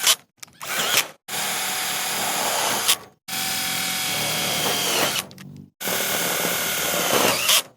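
A power drill drives screws and bolts to fix a cut tin sheet onto a homemade solar car, running in three loud sustained bursts with short pauses between them, with no talking.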